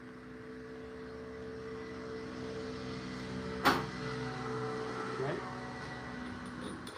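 A rotary tool with a middle-sized sandpaper attachment sands a wooden egg holder, producing a steady whining motor hum with a couple of brief scraping bursts.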